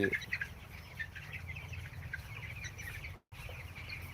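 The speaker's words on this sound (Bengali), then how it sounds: "চার হাজার মুরগির একটা শেড" In a poultry shed holding four thousand chickens on a cold day, hens cluck and murmur as a steady faint flock, with occasional sharper calls near the start and no talk.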